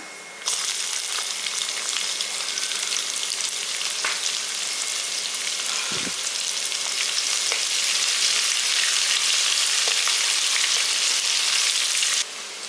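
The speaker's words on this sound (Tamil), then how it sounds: "இப்போ இதில் வெங்காயத்தை போட்டுடலாம்." Onions fry in a hot pan for wheat rava kichadi with a loud, continuous hiss that stays close and even. The sizzle thins out briefly near the middle, then returns at full strength until it stops abruptly.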